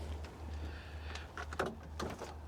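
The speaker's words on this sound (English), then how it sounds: "you have to open the front door" A Honda Element car door is worked open, with soft mechanical clunks and a brief rattle and scrape over a low steady hum.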